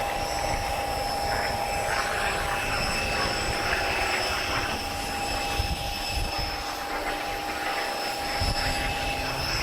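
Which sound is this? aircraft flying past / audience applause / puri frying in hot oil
aircraft flying past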